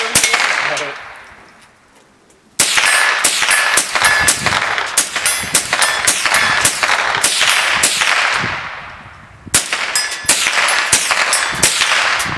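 Shots ring out from a Daniel Defense DDM4V7 rifle at the Eisenhauer Range: loud, sharp cracks, each with a bright metallic ring, in rapid bursts, with a dying echo and a short pause early on and another lull near the end.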